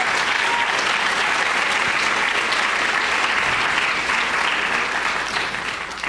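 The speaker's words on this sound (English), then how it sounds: "I think we need to give Frances a round of applause." A large audience at a 2015 community reading event gives a library director sustained, loud applause that carries on steadily before tapering off slightly at the end.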